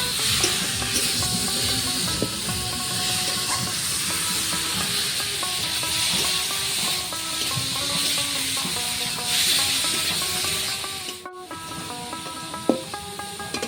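Ripe pointed gourd paste cooks in a pan, giving a steady close hiss and sizzle with scraping stir strokes throughout, a tonal background hum running beneath and a sharp clack near the end.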